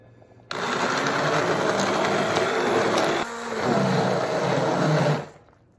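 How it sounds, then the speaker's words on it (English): A handheld immersion blender switches on abruptly and whirs steadily through a thick plum mixture, its pitch dipping briefly as it works, then cuts off. "I'm gonna run an immersion blender through it"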